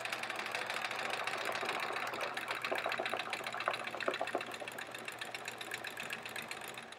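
Home sewing machine running steadily while quilting a quilt-as-you-go block, a continuous mechanical whir with rapid needle ticking, close and moderately loud throughout with no talking.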